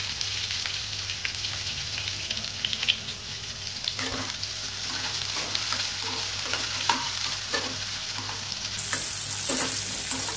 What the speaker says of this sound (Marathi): आता त्यात टाकणार आहे कांदा, बारीक चिरलेला कांदा टाकणार आहे त्यात।